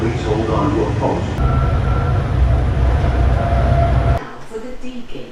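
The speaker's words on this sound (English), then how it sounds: "This train is going to the D-Gate." An airport shuttle train rumbles and hums loudly while moving toward the D gates, with a voice speaking over it, then the rumble drops away near the end.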